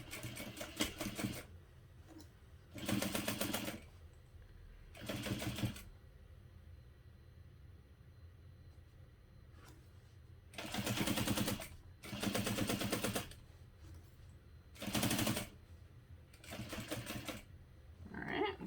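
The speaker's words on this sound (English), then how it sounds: "we're going to sew this together using a 3/8 inch seam allowance." A sewing machine stitches the seam of a hobo bag with a short stitch length, running in repeated loud rattling bursts of a second or so, separated by quiet pauses, close up and with no talk.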